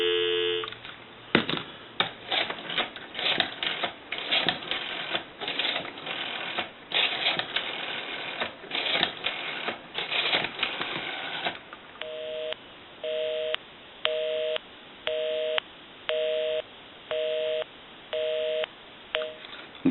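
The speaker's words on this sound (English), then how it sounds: "Give you some dial tone." A Western Electric French style telephone gives clicks and clatter of rotary dialing for several seconds, then a steady series of evenly spaced tone bursts repeats about nine times, close and clear with no talk.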